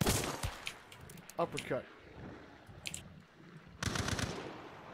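Gunfire from a rifle in Hunt: Showdown comes as loud close bursts at the start and again near the end, with a short crack in the middle, and a person speaks briefly between shots.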